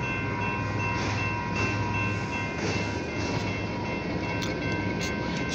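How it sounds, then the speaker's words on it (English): A very short OC&T tanker freight train rolls past near Titusville, its steady rumble and rail noise continuous and fairly close throughout, with no voices. "We have an OC&T's very short tanker train."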